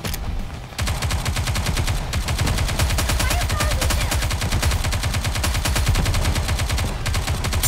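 Continuous rapid gunfire rattles in Goddess of Victory: Nikke, a loud, dense automatic stream of shots that carries on steadily almost throughout, with only a brief gap near the start.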